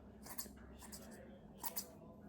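Small cutters snipping braided fishing line, three crisp, close snips spaced out over a couple of seconds, heard over a soft background hum.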